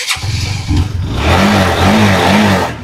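An old motorcycle for sale at a used-bike lot is started and revved, a sharp crank and catch followed by rising, wavering engine revs, loud and close, with no talk.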